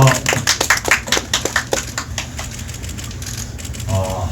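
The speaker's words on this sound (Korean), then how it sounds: "박수 부탁드리겠습니다" Supporters clapping at a Korean political campaign event at a candidate's camp: a burst of rhythmic, fairly loud, close claps in the first couple of seconds, fading into room noise with a voice at the end.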